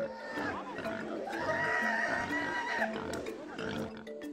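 Pigs in Papua New Guinea grunt and squeal in a cluster of overlapping oinks, moderately faint, with a rising squeal in the middle and intermittent background voices.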